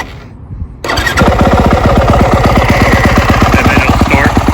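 A 2022 Yamaha YZ250F Monster Edition dirt bike fires up after a brief electric-start whir, then settles into a loud, close, rapid four-stroke idle that holds steady.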